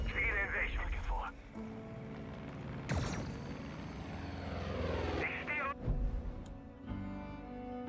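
Propeller airplane engine in a video game, a continuous droning roar that swells and shifts in pitch, with a few sharp mechanical bursts, running steadily throughout.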